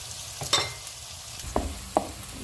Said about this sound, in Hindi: प्याज को हम गोल्डन फ्राई करेंगे।